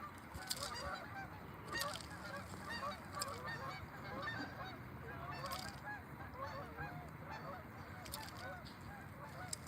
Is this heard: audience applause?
no